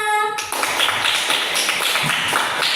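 A short speech fragment in a classroom gives way to a burst of steady group applause, many hands clapping quickly and loudly together.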